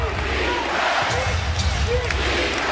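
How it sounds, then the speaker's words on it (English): Basketball arena crowd at a Knicks vs Raptors NBA game chanting for defense, a steady roar of many voices rising and falling under the rhythmic chant, with a ball bouncing and an announcer's voice on top. "Crowd chanting for D."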